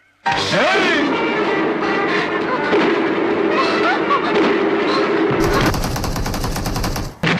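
Rocket launcher blasts and rapid gunfire crackle continuously in the BGMI mobile battle game, loud and dense, with a harsher burst of explosions near the end and a voice faintly mixed in.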